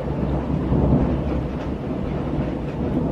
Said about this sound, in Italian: ma la sentite la pioggia torrenziale che sta venendo giù? Ci sono lampi, fulmini.